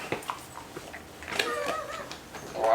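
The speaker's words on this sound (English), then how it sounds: "we gotta get the dog out of here" A dog whimpers and yips in short bursts, a few faint cries spread across the moment, ending in a louder whine.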